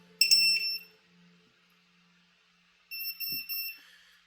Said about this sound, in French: vous avez le buzzer qui s'est mis à sonner au moment où vous avez retiré la batterie